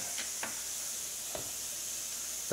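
Turkey for a green chili sizzles in a pan right after being flipped, a steady, fairly quiet hiss with a few brief scraping clicks scattered through it.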